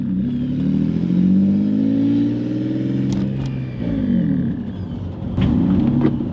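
A car with a blown turbo pulls away nearby, its engine rumbling and rising in pitch as it accelerates, with a few sharp clanks and rattles along the way, no one talking.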